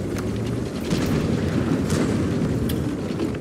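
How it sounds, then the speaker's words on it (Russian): A tank explodes in World of Tanks, producing a loud, sustained, rumbling boom that rolls on steadily for several seconds with no speech over it. "Взрыв был гладкий, дамы и господа."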